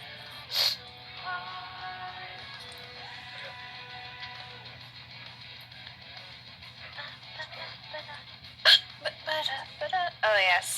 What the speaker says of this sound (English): Oh yeah, selling and drinking hot coffee when I have body shaking hiccups